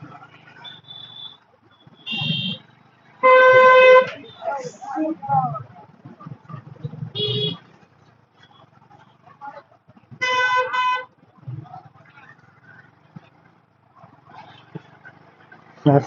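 Car horns honk in a congested Hyderabad road jam, with two long, loud blasts and a few shorter toots over a rumble of passing traffic while people talk nearby.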